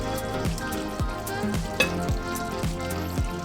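Oil sizzles steadily in a pan of frying bottle gourd as fried potatoes and prawns are added. Regular scraping stirs of a spatula sound roughly every half second over the constant crackle.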